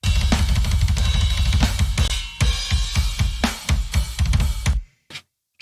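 Death metal drum kit in a 90s-style mix with Black Salt Audio Low Control adding subtle low-end punch, loud rapid kick and snare hits under cymbal wash, stopping abruptly near the end with a couple of isolated hits.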